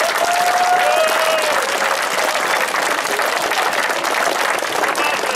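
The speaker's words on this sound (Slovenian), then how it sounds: "En velik aplavz za vse." A crowd applauds steadily and loudly for the players of a U9 football tournament at a medal ceremony, in continuous clapping with a faint whistle or voice at the start.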